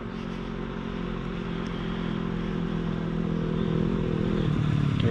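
A KTM dirt bike passes on a muddy trail ride, its engine a steady rumbling drone that grows gradually louder and closer through the clip, with some clattering near the end.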